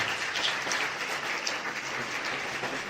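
A lecture audience claps in a broad, continuous wash of applause that stays fairly even for a few seconds, with no speech heard.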